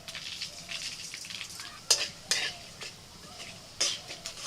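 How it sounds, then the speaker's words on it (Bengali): Bay leaf, dried chilli and five-spice frying in mustard oil in a kadai for a cabbage curry, a soft steady sizzle broken by a few sharp metallic clinks of a utensil against the pan, close and fairly quiet. "কড়াইতে সরষের তেল দিয়ে ফোড়নে দিচ্ছি তেজপাতা"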